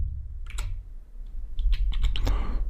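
Keys on a computer keyboard are tapped in short bursts of crisp clicks, close and fairly quiet over a low background hum.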